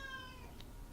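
A pet cat gives a short meow, a faint rising and falling call lasting under a second over low room noise.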